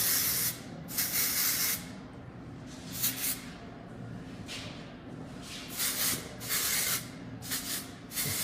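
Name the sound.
dry texture hair spray being sprayed (Refinish)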